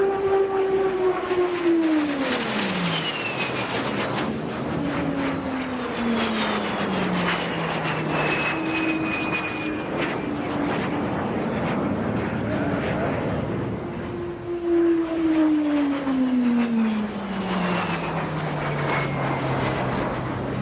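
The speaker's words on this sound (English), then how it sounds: "It's a shape and a sound familiar to most adult New Zealanders. Our first jet, the Havilland Vampire." A de Havilland Vampire jet at an air show in Auckland roars past with a loud, sweeping engine whine that rises and falls in pitch, continuous and strong throughout.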